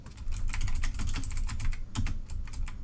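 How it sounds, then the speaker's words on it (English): Fast, continuous typing on a computer keyboard while entering a search query, a steady patter of close, loud key clicks with no voices over them. "So we can type in like city at night aerial."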